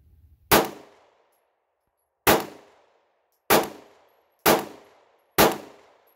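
A Smith & Wesson Shield Plus pistol fires five rounds at a range, each shot a sharp, loud crack with a short ringing decay, spaced unevenly about one to two seconds apart with silence between.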